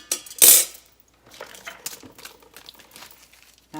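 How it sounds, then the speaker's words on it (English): A metal trivet set down inside an Instant Pot pressure cooker gives one loud, bright metallic clank up close. Softer scattered rattles and taps follow as it settles. "Put the trivet in."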